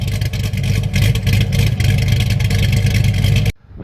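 Loud, close car engine revving with its factory valved exhaust muffler open, a steady throaty roar with pulsing surges that cuts off abruptly near the end, no voices over it.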